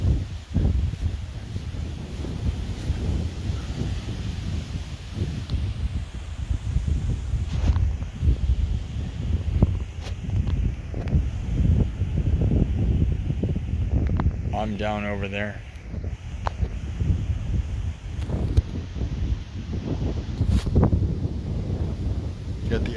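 Strong nor'easter wind blows at a seaside campsite on Cape Ann, roaring and buffeting the microphone in continuous loud gusts while a person speaks briefly over it.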